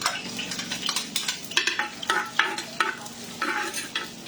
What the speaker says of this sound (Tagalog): Gisa lang muna natin. Unahin natin yung bawang.